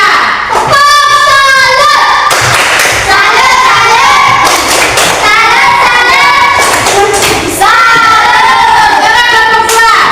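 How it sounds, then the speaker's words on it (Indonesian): A classroom of students gives a group a round of applause, with dense, loud clapping over several seconds mixed with children's excited voices. "Tepuk salut untuk kelompok 3."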